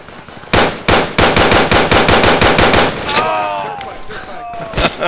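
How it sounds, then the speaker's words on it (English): Rapid gunfire in the military video game Project Reality, with a loud burst of about a dozen evenly spaced shots followed by a pause and a final pair of shots. "We're taking fire from somewhere."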